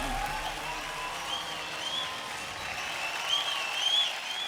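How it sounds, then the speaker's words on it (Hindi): An audience at an Indian televised dance competition applauds after a belly dance performance, a steady sustained clapping from a crowd at moderate distance, with faint whistles and cheers rising near the end. "एक बार जोरदार तालियां।"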